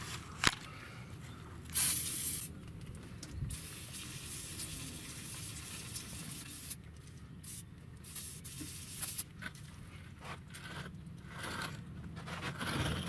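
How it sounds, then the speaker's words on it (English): Several hissing bursts of PB Blaster aerosol penetrating oil sprayed onto a rusty Dodge Ram spare tire winch, each lasting a second or two, with short pauses between them, heard up close. "He's spraying some PB Blaster"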